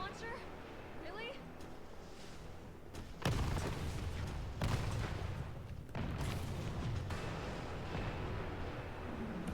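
Rocket launcher blasts in the Resident Evil 3 remake game, loud broadband booms with a rumbling tail, a big hit about a third of the way in and more bursts after, over steady game noise.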